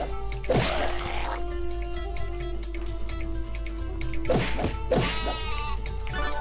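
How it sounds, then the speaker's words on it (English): Sheep bleat in a video game, two loud cries sounding alone, one near the start and one near the end, separated by quieter game sounds and soft thuds. "I killed the sheep!"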